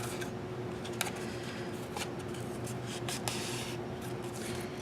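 Cardstock is creased and folded into a gift card holder, with a few crisp paper snaps and rustles scattered over a quiet background hum, and no one speaking.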